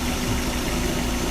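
Toyota Curren engine idling at low revs during an alternator replacement, a steady low hum with slight vibration, close and uninterrupted.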